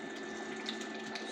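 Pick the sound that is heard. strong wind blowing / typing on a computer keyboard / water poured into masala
water poured into masala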